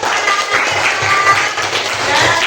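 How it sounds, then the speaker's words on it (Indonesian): Schoolchildren in a classroom clap their hands together, a fairly loud, continuous patter of small hands with faint rhythmic thumps underneath. "Tepuk tangan"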